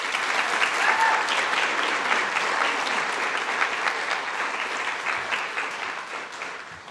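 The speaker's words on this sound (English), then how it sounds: "So please join me in a round of applause for these fine individuals behind me on the stage today." A large audience gives a sustained round of applause at a community college nursing pinning ceremony, dense clapping that starts loud and gradually thins and fades toward the end, with faint crowd murmur underneath.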